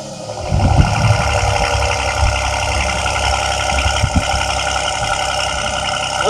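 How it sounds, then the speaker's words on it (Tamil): Mercedes-Benz GLE 43 AMG engine idling with a steady low rumble, close by, with a few brief bursts and thumps near the start and around the four-second mark, and no talk. "இந்த எக்ஸாஸ்ட் பற்றி நீங்களும் சொல்லிகிட்டே இருக்கீங்க. அது ஒரு தடவை ரெவ் பண்ணி காமிச்சிடுறீங்களா?"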